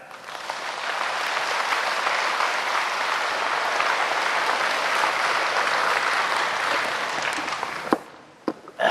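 A crowd applauds steadily for several seconds, a dense wash of clapping that stops abruptly near the end.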